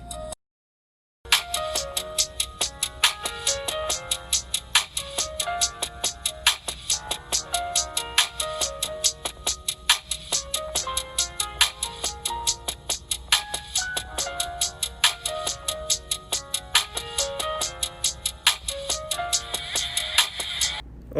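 An LG Aristo 5 smartphone's loudspeaker plays a bright, melodic ringtone that loops steadily for about twenty seconds after a brief silent gap, with regular rhythmic notes, fairly loud and alone without talk.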